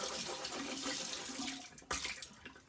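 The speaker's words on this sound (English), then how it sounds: "Let me just rinse it all out here," Tap water runs steadily into a sink while someone rinses their mouth during tooth brushing, a continuous close splashing hiss with a brief louder gush of water near the end.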